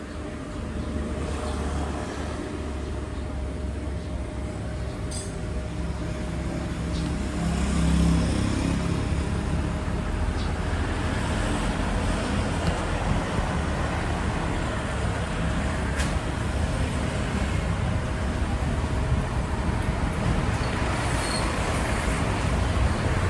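Continuous road traffic noise heard while riding through Phuket, Thailand: a broad rushing roar of passing vehicles and wind, swelling slightly partway through and staying loud and steady with no voices.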